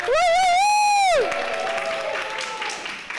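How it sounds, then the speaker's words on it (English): A loud, sweeping whistle or whoop rings out first, then an award ceremony audience breaks into applause and cheering that carries on at a steady level. "So give them another round of applause, please."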